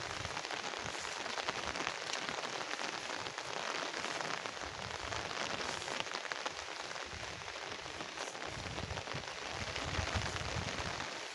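Steady rain falling on a surface outdoors near rice and corn fields, a dense even hiss of drops without a break, moderately loud and close.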